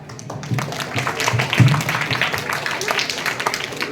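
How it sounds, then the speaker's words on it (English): A school class clapping for a student during a quiz, a short burst of scattered, uneven applause from many children in a classroom, with voices mixed in. "Clap for her"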